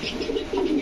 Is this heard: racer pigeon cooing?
yes